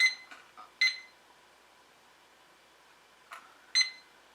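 A battery-powered countdown timer goes off with faint, short electronic beeps: a small cluster at the start, then isolated pairs spaced apart against near silence.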